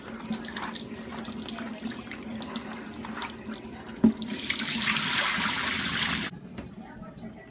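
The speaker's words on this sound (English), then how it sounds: "So now I'm going to wash it off now, because I like to wash with vinegar and lime" Kitchen tap water runs steadily over a cow foot being washed with vinegar and lime, the flow swelling louder midway with a brief knock before cutting off abruptly near the end.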